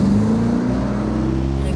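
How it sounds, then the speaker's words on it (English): An open-top car drives steadily with a continuous, fairly loud engine drone and a rising tonal whine, heard alone throughout without any pause. "An open-top car"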